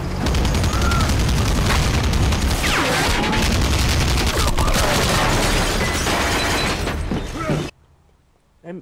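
Loud, continuous machine gun fire in GTA IV multiplayer, unbroken rapid shots with booms mixed in for nearly eight seconds, then cutting out abruptly.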